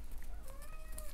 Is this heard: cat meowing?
yes